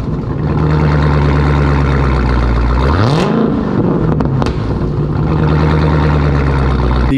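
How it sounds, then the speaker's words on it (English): A 2016 Dodge Hellcat with a 730-horsepower supercharged V8 idles with a loud, steady drone, then revs once in a quick rising and falling blip before settling back to idle. No voices are heard. "Just a little 730 horsepower V8 supercharged American muscle car that sounds epic."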